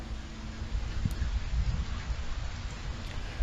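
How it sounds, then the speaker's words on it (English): Outdoor rain is picked up by an Ezviz C3A wireless security camera: a steady, dense hiss of falling drops with a few sharper taps. No voices are heard. "This is a clip when it's raining"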